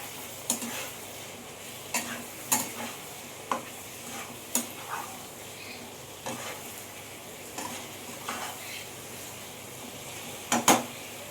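Chicken is stirred and fried in spice masala in a pan, with a steady sizzle under repeated sharp scrapes and clinks of a utensil against the pot, irregular and close.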